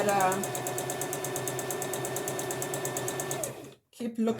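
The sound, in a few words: sewing machine stitching a back stitch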